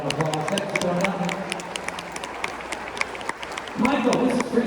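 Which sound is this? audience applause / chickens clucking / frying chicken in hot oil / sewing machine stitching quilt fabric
audience applause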